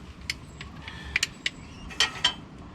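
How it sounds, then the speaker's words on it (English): A hand-pumped vacuum brake bleeder, used during a brake job on a Mitsubishi Challenger, makes soft, irregular plastic clicks and creaks against a quiet background, with no talking. "break the seal, just crack it open, and then you just pump this."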